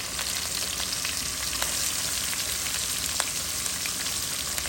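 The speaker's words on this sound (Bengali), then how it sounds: "বেগুন কালার একটু লাল লাল হয়েছে, এখন পেঁয়াজটা দিয়ে দিলাম," Onion and eggplant fry in a pan with a little chopped garlic, giving a steady, close, dense sizzle that holds evenly throughout with a few faint pops and crackles and no talking.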